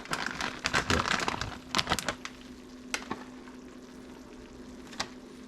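Tater tot casserole with shredded nacho cheese sizzles and crackles in a hot pan, busiest in the first couple of seconds, then settling into a quieter, scattered crackle.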